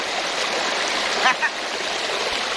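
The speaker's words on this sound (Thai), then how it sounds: "หลวงพ่อพาเดินชมลำธาร" A clear forest stream at Khlong Maduea Chanot in Nakhon Nayok flows with a steady close rushing wash, a brief splash rising above it partway through.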